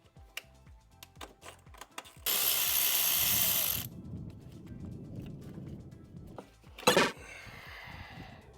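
Ratchet wrench loosening 10 mm bolts on the throttle body of a BMW E46 engine during a turbo build, with scattered clicks and taps, a sustained burst of ratcheting midway, and a sharp clack near the end.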